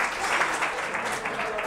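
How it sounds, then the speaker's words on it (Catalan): Audience applause for a contestant on a local TV spelling game show, a sustained even patter of many hands clapping at moderate level. "aplaudim a l'Àlex també"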